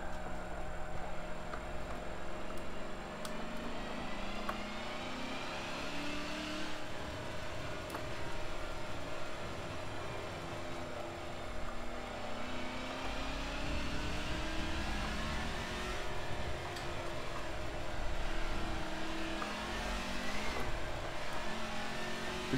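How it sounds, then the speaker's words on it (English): Race car engine in Forza Motorsport 7, played on a racing wheel, revving and shifting steadily through gears for over twenty seconds, a continuous loud drone with rising and falling pitch sweeps. "This is a very tail-happy car."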